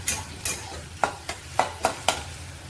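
Sliced onions salted and sizzling in a pan for masala dosa filling, with a row of sharp, evenly spaced spoon scrapes over a quiet frying hiss and no voices.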